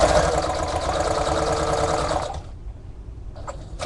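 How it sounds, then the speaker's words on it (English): A sewing machine stitches a pocket onto scrapbook paper with a fast, steady mechanical whir for about two and a half seconds. It then stops, and a few short bursts of stitching follow. "a pocket is a really great thing to use a sewing machine"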